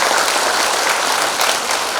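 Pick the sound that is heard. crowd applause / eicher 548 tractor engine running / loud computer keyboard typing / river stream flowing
crowd applause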